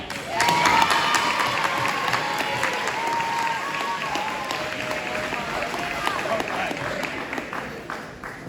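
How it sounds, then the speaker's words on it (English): At a school sports banquet, a crowd applauds the girls' soccer team with loud, dense clapping and cheering that holds steady throughout, with voices calling out over it. "big round of applause"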